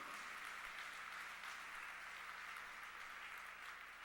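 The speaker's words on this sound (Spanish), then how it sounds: "Dale fuerte ese aplauso al Señor" A church congregation applauds, a faint, steady, even wash of clapping with no voices, held at one level throughout.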